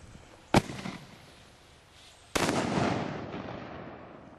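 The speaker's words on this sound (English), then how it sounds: "we're going to go ahead and fire a regular, well, an artillery shell" A large cannon tube fires an artillery shell, two sharp booming reports some two seconds apart, the second followed by a long rumbling, crackling decay.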